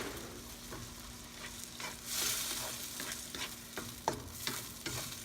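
Tomato garlic shrimp cooks in a pan with a low, steady sizzle, broken by soft scraping strokes and light clicks as the mixture is stirred, fairly faint and without voices.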